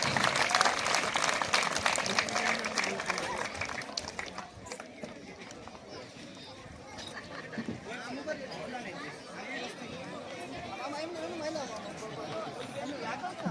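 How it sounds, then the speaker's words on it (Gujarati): Applause and crowd chatter welcome the guests on stage at a junior kabaddi tournament held at a primary school in Dalkhaniya, Amreli, Gujarat. Clapping is loudest in the first few seconds, then fades into a steady murmur of voices and movement. "આપણે સૌ તાળીઓથી હાર્દિક સ્વાગત કરીશું।"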